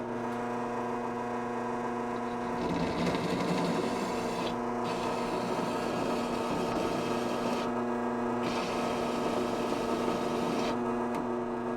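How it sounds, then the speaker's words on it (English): A drill bores a hole into wood for a magnetic sanding jig, its steady motor whine and rasping cut running continuously under a constant electrical hum, with brief pauses between bursts of drilling. "drill a little bit, do a fit, drill a bit more, do another fit"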